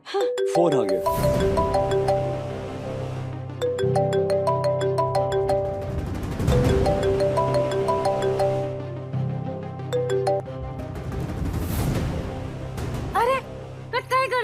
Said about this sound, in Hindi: फोन फोन आ गया।